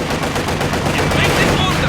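Continuous rattling gunfire in Company of Heroes 2, a dense WWII-style battle din of overlapping shots that stays loud and steady throughout.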